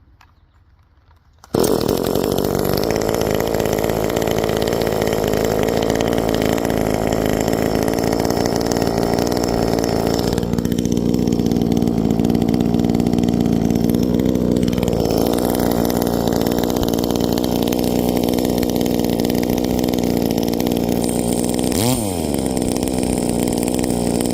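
A Farmertec G2511 chainsaw, a Chinese clone of an Echo, sputters to life after a brief quiet moment, then idles loudly and steadily with a few small shifts in pitch.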